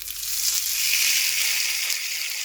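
Salmon sizzling on a hot, oiled panini press, a loud, close, continuous hiss that swells and then holds steady, with no talk.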